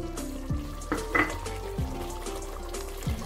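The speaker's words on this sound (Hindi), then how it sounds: "इसको मैं तकरीबन 2 से 3 मिनट और अच्छे से भूनूंगी" Biryani masala frying in a pan, with a steady close sizzle and crackle and periodic scraping as it is stirred, and no talking.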